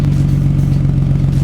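A Toyota Progres fitted with a custom exhaust revs briefly, a loud, deep, throbbing engine note with a steady low pulse close to the microphone.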